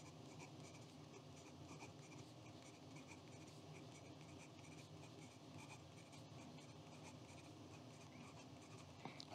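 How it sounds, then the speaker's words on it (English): A Taccia Momenta "Midnight Clouds" fountain pen writes quickly on paper, giving a continuous faint scratchy whisper of nib strokes, steady and close, with no voices. "And let's check on some quick writing."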